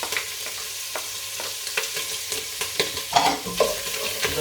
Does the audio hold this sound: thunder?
no